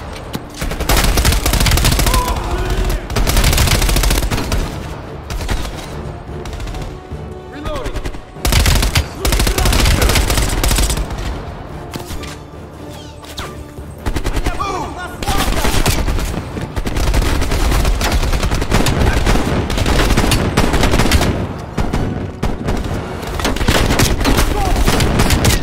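Dense, loud gunfire in Call of Duty: Black Ops Cold War, with sustained machine-gun bursts and overlapping shots, occasional heavier booms, and brief lulls between volleys.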